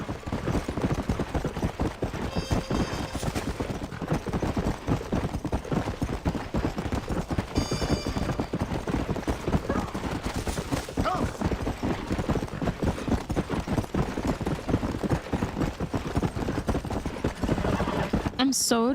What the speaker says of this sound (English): Why my horse is going so slow today.